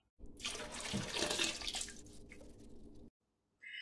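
A steady stream of water pours from a jar into a pot of chili for about three seconds, then stops abruptly, followed by a brief faint hiss.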